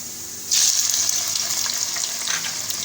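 Tomatoes tipped into a pan of lightly golden frying onions set off a sudden loud sizzle that starts abruptly and keeps crackling steadily, close up, with no talking.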